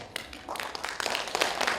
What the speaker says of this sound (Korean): 81세에 원산면 농막에서 시를 짓고 계시는 우리 박정란 선생님께 한번 박수 부탁드리겠습니다